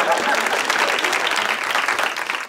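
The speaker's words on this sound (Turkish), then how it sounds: "Bir alkışlayalım." A studio audience on a Turkish talk show breaks into a burst of clapping, loud and dense, sustained for a couple of seconds and fading slightly at the end.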